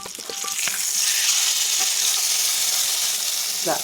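Fish fries in oil in a frying pan with a loud, steady sizzle and crackle, a few clinks of handling at the start and end.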